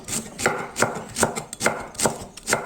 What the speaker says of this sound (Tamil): இப்போ முட்டைக்கோஸ் வந்து நல்லா ஜூலியன் ஜூலியனாக கட் பண்ணிக்கலாம்